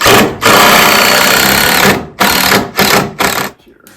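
A power driver sinks larger screws into wood while building a small pallet cabin, whirring loudly in one long run followed by three shorter bursts, then stopping.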